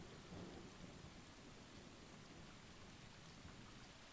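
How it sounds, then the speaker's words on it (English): Rain and thunder in the video game Stray: a steady, dense downpour hisses throughout, with a low rumbling thunder roll underneath and no one speaking. "Rain."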